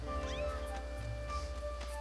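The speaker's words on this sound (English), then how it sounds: "Come here, kitty cat." A cat meows in the Skyward Sword video game, a few short, faint mews over a steady bed of game music with sustained tones.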